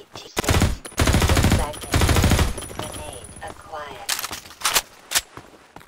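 Modded Half-Life 2 weapons fire in loud, sustained bursts of rapid gunfire, with a few shorter, sharper single shots and clatter afterward. Some speech-like game sound is mixed in.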